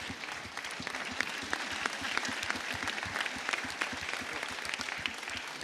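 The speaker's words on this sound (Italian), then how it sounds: "merita un applauso veramente forte" A crowd applauds at the final evening of a new-voices singing festival in Vittorio Veneto, with steady, fairly soft clapping and individual claps standing out throughout.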